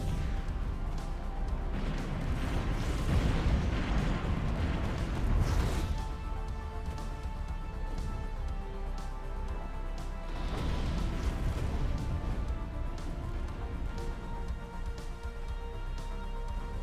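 Stellaris fleet battle with Devastator torpedoes striking ship hulls: a dense, continuous wash of crashing blasts and pops, heavier in the first few seconds, then steady rumbling impacts with sharp hits throughout.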